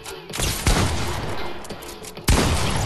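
Gunfire in Fortnite: a dense, loud volley of rapid shots over about three seconds, with sharp cracks standing out near the start and again near the end.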